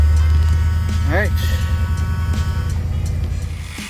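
A classic car's engine holds a low idle with a steady, deep rumble that fades slightly near the end, and a voice briefly sounds over it.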